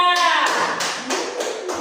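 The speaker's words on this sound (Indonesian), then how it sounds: "Tepuk tangan buat kelompok 3" A classroom group claps and applauds for group 3 after their presentation, a dense, steady patter of hands that starts just after a brief voice and carries on to the end.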